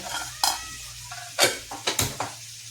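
Tallow frying while onions sauté in a pan beside it: a low background sizzle broken by sharp scrapes and clinks of a utensil against the pan in quick bursts, close and with no talking.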